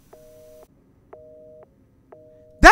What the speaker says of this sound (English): I'm not answering the phone for her.